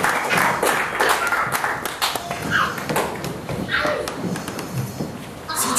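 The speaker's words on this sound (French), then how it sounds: "Nous acclamons pour la parole du Seigneur" A congregation at a French-language church service claps and cheers steadily, a loud continuous patter of hands mixed with voices throughout.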